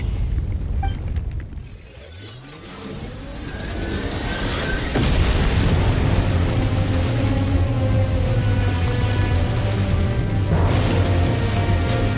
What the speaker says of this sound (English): The ground, it's shaking.